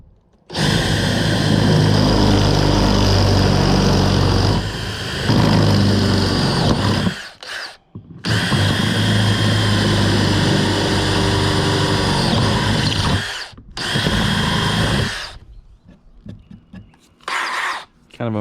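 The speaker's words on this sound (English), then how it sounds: "I'm gonna go ahead and drill this one." A power drill bores holes through the hull of an Old Town Bigwater canoe, whining loudly in long bursts with brief stops and short restarts.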